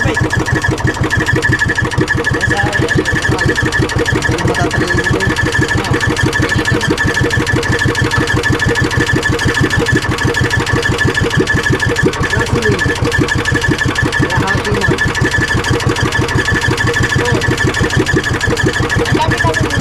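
A boat's inboard engine runs steadily through its warm-up, a loud, continuous chugging idle with an even mechanical rhythm and no pauses.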